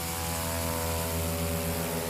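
A STOL aircraft at a Sodbusters short-takeoff competition holds a loud, steady propeller and engine drone at full power on its takeoff run, with no pauses in the sound.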